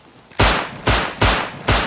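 Four loud, sharp gunshots ring out in quick succession in the survival video game Rust, each with a short decaying tail, with no voices over them.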